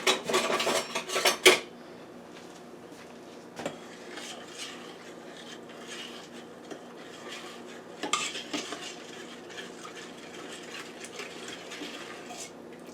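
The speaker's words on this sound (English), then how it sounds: "now we want to mix this up." Peach cobbler ingredients with vanilla extract being mixed in a bowl, with brisk clattering utensil scrapes at the start, then quieter intermittent stirring and clinks against the dish.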